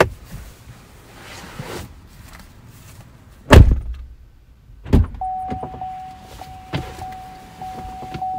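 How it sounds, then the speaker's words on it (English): The driver door of a 2021 Chevrolet Silverado LT 1500 pickup is opened and then shut with two solid close thunks, followed by a steady electronic chime tone with some light rustling around it. "open and close the driver door"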